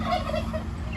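A hen gives a short, close burst of clucking over a steady rural background.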